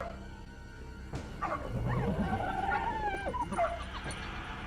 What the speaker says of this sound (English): when your dog is freaking out